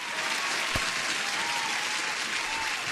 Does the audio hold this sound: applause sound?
yes